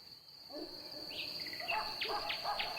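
A park soundscape where a steady high cricket trill runs throughout, with several short bird chirps and calls layered on top, faint and somewhat distant.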